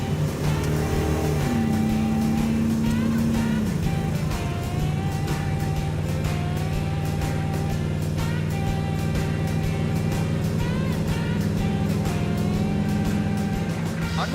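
A Dodge Dart fitted with a motorhome 440 engine cruising at highway speed, a steady loud engine drone with rising and falling gear pitch, continuous throughout with no talking.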